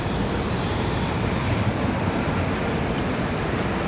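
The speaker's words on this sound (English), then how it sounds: "Looks like we've got a departure." Delta Boeing 737-9 airliner departing Raleigh-Durham airport, a steady broadband roar of jet engines held at a constant level throughout, close and loud with no voices over it.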